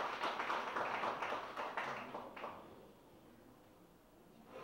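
An indoor audience gives brief applause at an inauguration ceremony, a burst of scattered claps that fades over a few seconds into quiet room tone, faint and somewhat distant.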